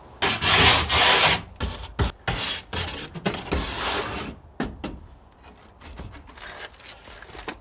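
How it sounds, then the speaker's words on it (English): A steel wire brush scrubbing algae off a wooden shed: loud, close, harsh rasping strokes, with a sustained scrub at first and then shorter separate passes that grow softer toward the end. "So I've got this sort of steel brush thing. I can use that to rub things like there's a little algae down there"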